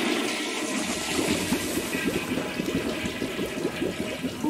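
A toilet in the I Am Fish video game flushes in a steady, close rushing gurgle of water that swirls on for several seconds without speech.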